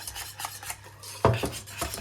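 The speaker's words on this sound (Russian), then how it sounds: "и перемешиваю, потому что наша емкость горячая, чтобы оно не пригорело" A spoon stirs hot custard cream in a pot just taken off the stove, scraping and rasping against the metal with one sharper clink, close and steady.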